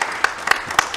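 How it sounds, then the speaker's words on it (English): An audience applauds at the end of a panel discussion at an anniversary exhibition programme, with a short burst of scattered claps that are close and moderately loud. "Please give us a round of applause."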